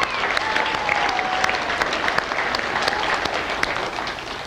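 An audience at a live magic performance claps continuously in dense, even applause that holds steady for several seconds.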